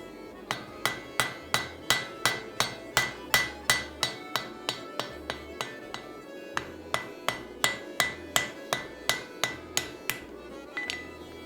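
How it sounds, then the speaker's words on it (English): Flat face of a hammer striking hot steel while thinning the eye section of a forge-welded laminated axe, a long run of ringing, evenly paced blows with a brief pause midway. "I instead use the flat side and just thin everything out that way."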